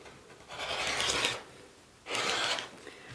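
Rotary cutter slicing quilting fabric into 3.5 inch strips, two separate rasping strokes about a second each with a pause between, fairly quiet and close, no voices.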